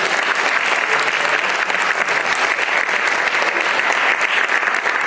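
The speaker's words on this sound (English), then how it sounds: "Let's give one more warm applause to the panel." Continuous, even audience applause for a conference panel, many hands clapping at a steady, fairly loud level with no pauses.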